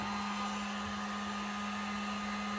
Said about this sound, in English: I am heating it up at the same time